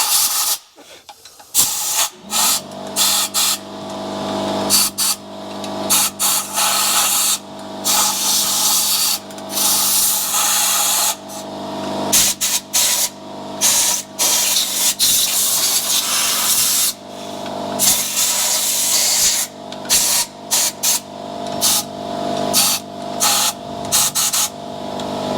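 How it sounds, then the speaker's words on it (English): Compressed air from an air compressor blasts dust and debris out of the belt housing of an Odes/Massimo 1000cc X4 LT ATV in loud, close hissing bursts of varying length, separated by short pauses, while the compressor hums steadily underneath. "I know the air compressor's running"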